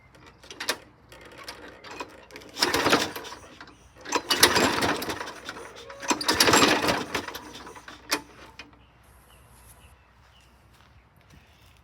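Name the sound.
2006 Craftsman push mower engine starting and stalling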